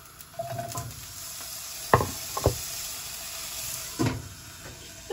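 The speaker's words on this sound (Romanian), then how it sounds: "sfârâie, deci o să încins uleiul" Hot oil in a frying pan sizzles as a continuous soft hiss in a home kitchen while tortellini carbonara is prepared, punctuated by a few sharp clinks of a spoon against the pan.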